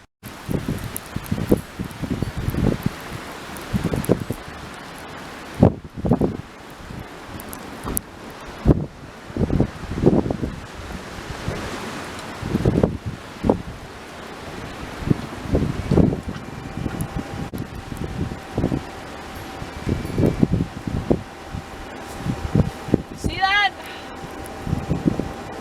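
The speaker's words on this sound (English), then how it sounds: "Wow, this wind, this wind!" Strong wind in a snowstorm batters an off-grid RV, roaring in loud, uneven gusts with rushing, buffeting bursts and brief lulls throughout.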